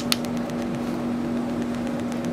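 A laser handpiece's vacuum suction unit runs during a freckle laser treatment, with a steady, close mechanical hum and a constant low tone, preceded by a small click.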